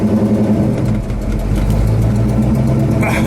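A 1969 Dodge Charger R/T with a 426 Hemi and four-speed pulls away, its engine rumbling loudly and close with a deep, lumpy idle rising into a gentle rev.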